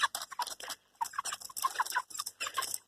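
A batch of chickens in a coop built for 27 birds clucks in quick, repeated bursts separated by brief pauses, close and clear with no talking.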